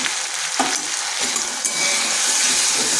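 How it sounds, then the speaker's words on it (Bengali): Ground turmeric, cumin, coriander and chilli powder frying with jackfruit in a pan give a steady close sizzle, with a scrape of stirring near the start and no talking. "মশলাটাকে ভালো করে কষে নিচ্ছি।"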